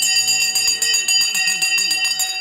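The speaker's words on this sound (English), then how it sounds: "The bell has gone and it's one of our biggest pumps ever on the channel" A stock market opening bell rings continuously, a loud sustained electronic tone with rapid pulsing repeats, while someone talks excitedly over it.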